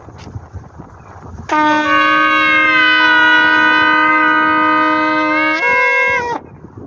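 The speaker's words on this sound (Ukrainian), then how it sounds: "ми викорінюємо іменем Ісуса Христа Словом Божим і звуком шафара" A single long shofar blast rings out loud and close, a sustained brassy horn tone lasting about five seconds, stepping up in pitch near the end before cutting off.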